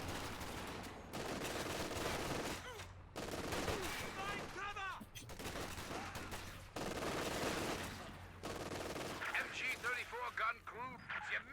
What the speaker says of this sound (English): We have a machine gun from Hans.